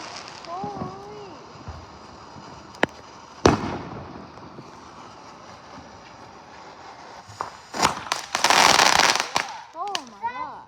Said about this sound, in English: I'm gonna show you guys the fireworks.